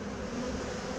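Honeybees buzz around an opened hive during an early spring inspection, a faint, steady, continuous drone with no talking.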